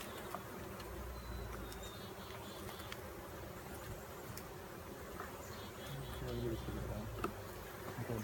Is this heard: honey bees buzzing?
yes